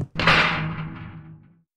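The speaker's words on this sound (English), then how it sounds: "doors opening and closing" A door in a horror puzzle video game swings open or shut with a single close, heavy thump that rings into a steady, humming tail and fades out within about a second and a half.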